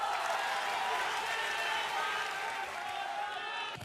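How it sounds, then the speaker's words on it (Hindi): An audience claps steadily in a studio debate hall, welcoming guests onto the stage: a sustained, fairly soft wash of applause that holds evenly throughout and tapers slightly at the end. "तालियों के साथ स्वागत कीजिए।"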